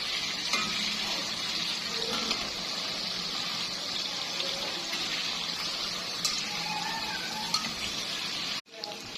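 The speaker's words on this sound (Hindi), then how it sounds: "चिकन को अच्छे से फ्राई कर लेंगे हम।" Chicken pieces fry in plenty of oil in a pot for a white karahi, a steady crackling sizzle with occasional stirring scrapes, fairly close and moderately loud.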